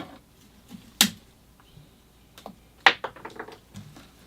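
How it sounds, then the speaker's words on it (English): Cutting a branch on a sabre leaf ficus bonsai during hard pruning: a few sharp, isolated snips and clicks, close and quiet, with a cluster of small crisp cuts near the end and no talking. "Now I'll come in and clean up that cut."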